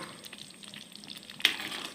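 A soft, steady bubbling and sizzling of Tamil vatha kulambu gravy simmering on low heat in a pot, quiet and close, with one brief louder clink near the end.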